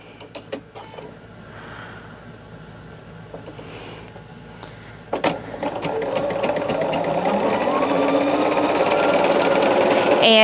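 A sewing machine stitches a quilt top, starting with a few scattered clicks and taps, then running steadily and loudly at close range in a fast rhythmic whir for the second half.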